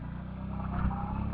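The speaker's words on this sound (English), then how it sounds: "give it a little bit of revs" A Keeway V Cruise 125 motorcycle engine idles with a low, steady harmonic rumble and rises slightly in revs as the bike pulls away, close and continuous throughout.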